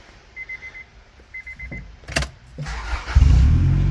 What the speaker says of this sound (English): let's get this winter beater going